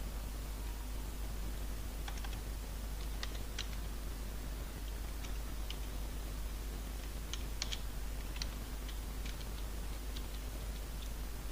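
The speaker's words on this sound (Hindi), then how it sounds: "यहाँ पे कुछ डेटा लिख लेता हूँ।" A computer keyboard clicks in irregular bursts of light taps while data is entered into an Excel spreadsheet, faint against a steady low hum.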